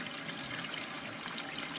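A front-load washing machine fills with water at a throttled supply, giving a steady, faint hiss of rushing water with no one talking.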